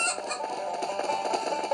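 Cartoonish chickens cluck and squawk in a Stickman Party mini-game, a dense, continuous run of bright, overlapping clucks that stays loud throughout with no talking.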